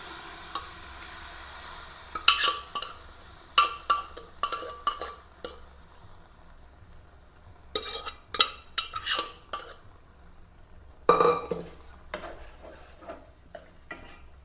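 Cooked meat goes into a hot pan of gravy, followed by repeated utensil scrapes and clinks against the pan over a low sizzle, coming in uneven bursts with short pauses, close and clear without talk.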